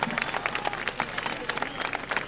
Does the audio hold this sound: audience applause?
yes